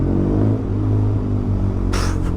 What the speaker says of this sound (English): That is a funny exhaust.